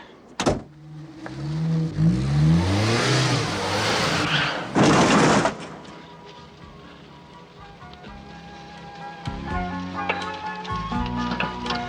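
A car starting a ride: a sharp thump, then loud rushing and whirring bursts, settling into a lower steady engine drone with scattered clicks and rattles.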